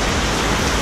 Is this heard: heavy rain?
yes